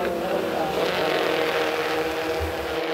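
Open wheel race cars roar down the hill on the opening lap at a Western Australian raceway, a steady loud engine drone with a commentator talking over it.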